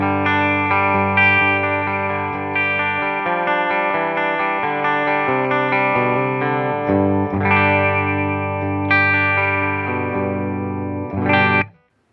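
Sustained Gibson ES-335 electric guitar chords ringing through an amplifier, clean and full with lingering decay, changing chords every few seconds before cutting off.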